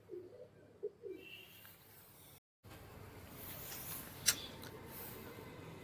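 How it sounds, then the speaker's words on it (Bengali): A pair of high-quality Madras pigeons coo softly in a few short, low throaty calls early on, close by, followed by quiet rustling and background noise. "একজোড়া হাই কোয়ালিটি ম্যাড্রাসি পিজন"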